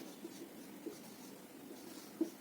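A pen writing a name by hand on paper, faint close scratching strokes in a soft continuous patter with a few small taps, quiet and alone.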